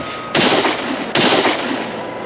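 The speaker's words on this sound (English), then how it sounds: "Shots are coming from the garrison, all right, but they're not shooting at us." Two loud gunshots from a frontier garrison about a second apart, each a sharp crack trailing into a rumbling echo, with no voices.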